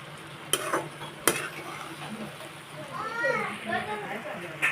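Indian gooseberries being stirred in a pan while cooking down, with a couple of sharp spoon knocks on the pan, soft scraping and faint sizzling, and a voice talking over it.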